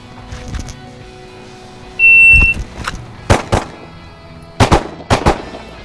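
Handgun shots drawn and fired from the holster during a timed 50-round test, loud and close, coming as sharp cracks in pairs with pauses between, plus a brief electronic timer beep near the start.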